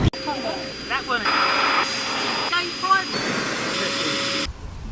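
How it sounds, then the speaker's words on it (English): A steady droning electric air pump for inflating boats whines continuously at close range while voices talk over it, then the motor cuts off abruptly near the end. "It's specifically for pumping up boats"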